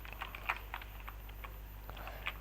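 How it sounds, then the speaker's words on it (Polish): Quiet, close keyboard typing with scattered individual key clicks, a few sharper taps standing out against a low steady hum. "Wy też dobrze słyszycie tą klawiaturę."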